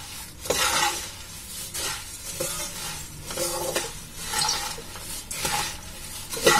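Spiced puffed rice (karapori) is stirred and tossed with coconut oil in a pan, making repeated rustling, scraping bursts in an uneven rhythm over a faint sizzle.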